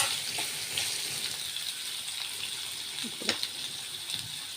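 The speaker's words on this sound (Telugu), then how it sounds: "దీన్ని మూత పెట్టేసుకుని 10 నిమిషాలు దీన్ని నెమ్మదిగా మగ్గనిద్దాము" Pumpkin pieces for pumpkin dal cook in a pan with a soft, steady sizzle and faint bubbling, quiet and close, with a few small clinks.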